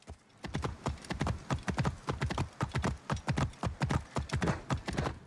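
Horse hooves clip-clop steadily in Assassin's Creed Origins as a ridden horse trots through a city, loud and close with an even, continuous rhythm and no talking.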